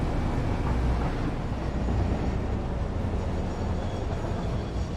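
A steady, dense rumble of a train pulling into a station in the video game Satisfactory, continuous and fairly loud with no talking.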